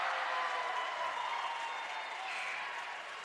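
A crowd at a high school basketball subdistrict game claps and cheers in a steady, dense wash after a made free throw, filling the gym without a break.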